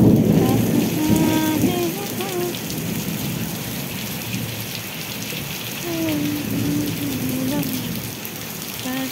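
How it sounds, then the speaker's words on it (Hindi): Heavy rain pours steadily, with a dense roar of drops on surfaces and distant thunder. Occasional tonal voices and chatter sit under the downpour. "देखो ये वर्षा स्टार्ट हो गला"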